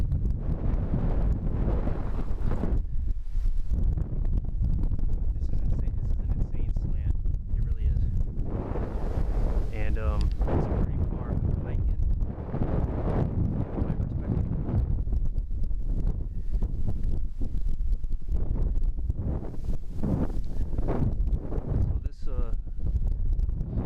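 Gusty wind roars and buffets against the microphone at a backpack campsite in Glacial Lakes State Park, Minnesota, rising and falling in strong blasts over a low rumble, with a voice heard at times.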